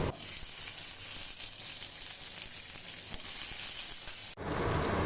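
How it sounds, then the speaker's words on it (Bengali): Fish seasoned with salt and turmeric fries in hot oil with a steady, dense sizzle, close and fairly loud, which briefly breaks and then swells again near the end. "নুন হলুদ দিয়ে একটু ভাজা ভাজা করি"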